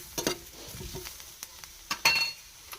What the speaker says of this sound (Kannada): ಇವಾಗ ಮೆಣಸಿನ್ಕಾಯಿನ ಹಾಕಿದ್ದೆ ನಾನು ಇಲ್ಲಿ ಎಲ್ಲ ಕೂಡ ಚಲೋ ಹೊತ್ತಿನಾಗಿ ಹುರಿಯಾಕತ್ತವ್ರಿ